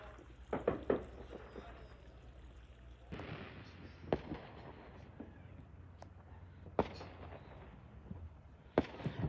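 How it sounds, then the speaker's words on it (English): Fourth of July fireworks at rodeo fairgrounds pop and boom at a distance on a cold night, several separate bursts spread out irregularly over steady outdoor background noise. "These are the fireworks at the rodeo fairgrounds."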